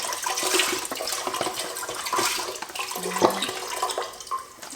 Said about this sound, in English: we're gonna put in, give it a shake, our vegetable broth.